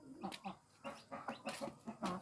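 Hens cluck in short, repeated bursts beside newly hatched chicks, the calls close and fairly loud, spaced unevenly with brief pauses between them.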